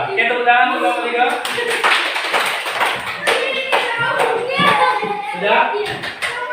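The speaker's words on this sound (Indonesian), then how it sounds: "Ya, kita tepuk tangan untuk nomor 3." A classroom of schoolchildren applauds a student group, a sustained burst of many hands clapping at close range mixed with children's voices and chatter.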